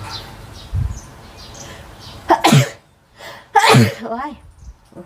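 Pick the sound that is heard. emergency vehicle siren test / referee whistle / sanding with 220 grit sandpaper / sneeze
sneeze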